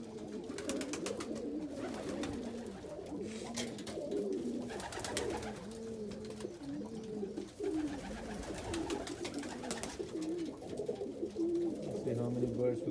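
Pigeons cooing inside a freshly cleaned loft, overlapping soft repeated coos and throaty calls from several birds close by, with occasional wing flutters and a steady murmur throughout.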